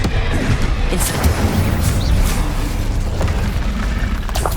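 The Incendio fire spell cast in Hogwarts Legacy, heard as a loud, dense roaring burst that holds steady throughout with a deep booming low end and no clear pauses.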